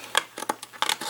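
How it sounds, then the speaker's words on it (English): Scissors snip through card along a score line: a quick run of crisp, close cuts, about five or six sharp strokes in a little over a second, with no talk over them. "just cut straight down on that score line just like that"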